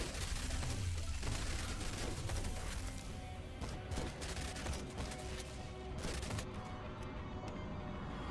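Rapid submachine gun fire from a zombie survivor action game, a dense, continuous rattle of shots layered with impacts and game effects, loud and steady throughout with no speech.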